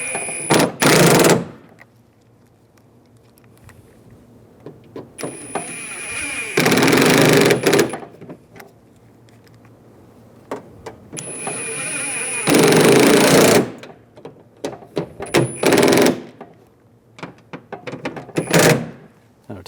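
Screws are driven into a rear exterior door handle on a 2011-2018 Ram 1500 in three separated bursts of sharp, rattling driver whirr, with quieter handling clicks and taps between them.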